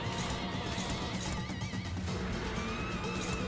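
A horse whinnies with a shaky, rising cry over steady game music and busy effects in the video game Limbus Company.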